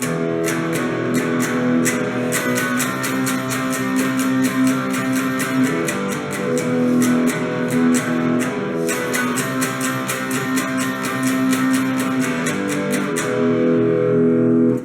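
A distorted electric guitar plays the intro riff of a song, rapid picked notes over sustained chords, loud and continuous, with no voices.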